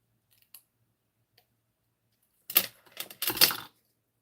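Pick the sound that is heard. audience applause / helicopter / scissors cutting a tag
scissors cutting a tag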